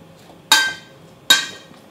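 A spoon stirs grape, apple and banana pieces in a bowl for a crunchy fruit salad, giving two sharp, bright clinks less than a second apart, each ringing briefly before fading into quiet.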